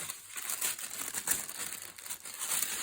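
Craft paper being cut for journaling cards, giving a close, continuous papery crinkle and rustle with small irregular swells, and no voices.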